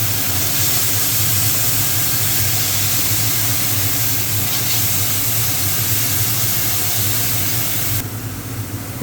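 Green chilli paste frying in a pan for a prawn curry with taro stolons, giving a loud, steady hiss and sizzle that holds across the whole clip, with a low rumble underneath and no talking.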